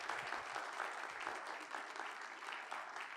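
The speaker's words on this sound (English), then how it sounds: "why don't we welcome them with we'll clap for them now." Audience applause welcoming speakers at an evening Christian and Muslim conversation event, a steady, moderately faint clapping crowd throughout.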